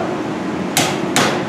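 Two sharp hammer blows ring out on welded steel horseshoes being shaped into a trivet, loud and close, spaced under half a second apart over a low steady background hum.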